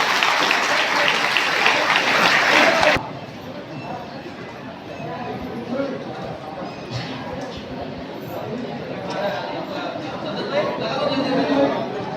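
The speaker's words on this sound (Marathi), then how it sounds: "सरांनी जोरदार टाळ्या वाजवून त्यांचे स्वागत करायचं आहे" A crowd at a public religious procession gathering claps loudly in welcome for about three seconds, then it cuts off and murmured chatter and voices carry on in the background.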